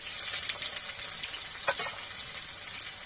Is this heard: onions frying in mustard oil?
yes